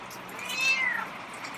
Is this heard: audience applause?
no